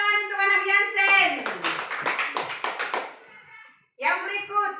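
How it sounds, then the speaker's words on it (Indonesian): Schoolchildren in a classroom clapping their hands in a quick burst of rhythmic claps, lasting about two seconds between stretches of a voice speaking before and after. "Oke, tepuk tangan untuk anak Yansen."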